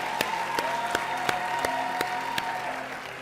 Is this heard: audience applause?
yes